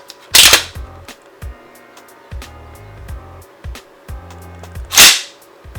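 A KWA Umarex HK416 A4 gas blowback airsoft rifle fires two loud, sharp cracks several seconds apart, with quieter mechanical clacks and handling knocks between them.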